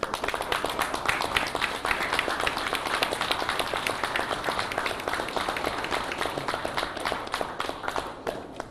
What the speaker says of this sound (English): if you can just join with me in just giving them a round of applause